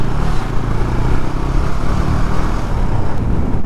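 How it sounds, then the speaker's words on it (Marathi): Motorcycles, including a Bajaj Dominar 250, rumble past on a hill road near Lonavala, a loud continuous engine drone with wind buffeting throughout. "आणि इथे पण 3 रायडर, 3 सेम बाईक नाही, 2 सेम बाईक आणि एक डोमिनार 250 होती बहुतेक"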